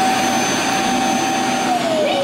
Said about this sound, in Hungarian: Egy porszívó